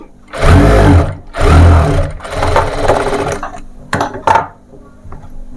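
A sewing machine stitching a ruffled baby frock for a three-year-old, with loud, close bursts of motor whir: two short runs, a longer continuous stretch, then a couple of quick stops and starts.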